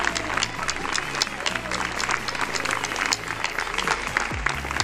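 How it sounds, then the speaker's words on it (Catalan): Applause from the audience at a school bachillerato graduation ceremony, a dense, continuous wash of many hands clapping, fairly loud and sustained, with crowd noise underneath. "Des d'aquí demanem un fort aplaudiment per a totes elles"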